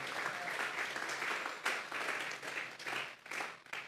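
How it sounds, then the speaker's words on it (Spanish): A church congregation applauds at a Sunday service, steady clapping from a roomful of people with a few sharper claps standing out, fairly distant and even throughout. "Vamos a darle una ofrenda de palmas a Dios en esta hora."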